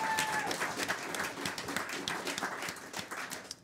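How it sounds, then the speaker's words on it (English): Warm audience applause at a traditional Irish music concert, steady clapping from a modest crowd held at moderate level throughout, slightly distant. "give yourselves a huge round of applause"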